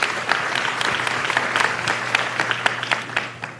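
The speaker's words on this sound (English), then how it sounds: "So give yourselves a round of applause for everything you are doing." Audience applause at a town hall meeting, a room full of people clapping steadily with distinct individual claps standing out, fading slightly toward the end over a low hum.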